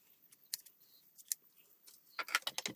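Scissors trimming paper for a handmade stamped card, sparse sharp snips close by at first, then a quicker cluster of crisp cuts near the end, with no one speaking.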